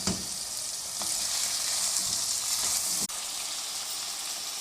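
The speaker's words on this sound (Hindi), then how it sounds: "तेज़ आंच पे आपने फ्राई करना है" Chicken pieces frying in a pan over high heat, a loud, dense and continuous sizzle up close, with a brief clack of a spoon partway through and no talking.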